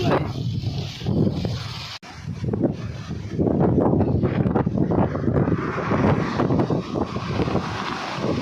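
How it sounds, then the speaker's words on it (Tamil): Strong gusty wind buffets the microphone with a loud, roaring rush that briefly drops out and then returns harder, while someone talks over it. "இந்த காற்று அடிக்கிறத பாருங்களேன்"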